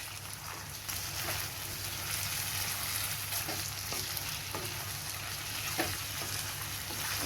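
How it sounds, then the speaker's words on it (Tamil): Chicken pieces added to golden-browned onions and frying in a pan, a steady crackling sizzle with occasional soft scrapes and knocks as the mixture is stirred, no talking. "இப்போது நம்ம சிக்கனை ஆட் பண்ணிடலாம். நல்லா ஒரு தடவை மிக்ஸ் பண்ணிக்கலாம்."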